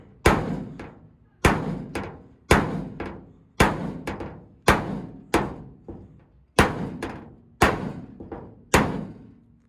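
A hammer strikes a bump in a truck body panel nine times at an even pace, each blow a loud, close metallic thunk that rings briefly and fades before the next.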